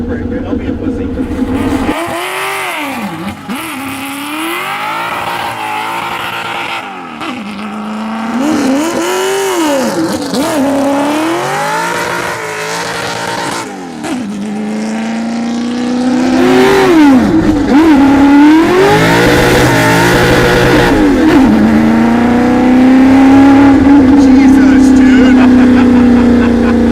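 A Ford Shelby GT350 doing a second gear burnout, its engine revving up and down in repeated swells before holding a loud, rising high-rpm roar, with people talking over it.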